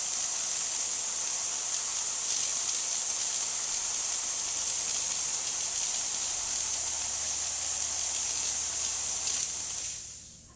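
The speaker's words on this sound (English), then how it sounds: "Beautiful steam coming out." Continuous strong hissing pours from the steam wand of a serviced Rancilio Silvia espresso machine, staying even and close before tapering off as the valve shuts near the end.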